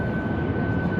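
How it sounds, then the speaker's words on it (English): An airplane coming in to land near the airport by a pool area drones as a low, steady engine rumble with a faint thin whine above it, continuous throughout. "So you can see the plane coming in."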